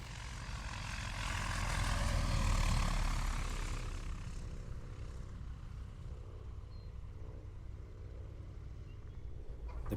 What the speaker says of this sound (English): It appears to be a little bit high and a little bit fast, but it's an acrobatic airplane.